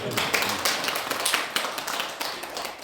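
An audience at a Buddhist alumni dharma gathering claps steadily, a dense wash of applause that runs close and continuous from start to end.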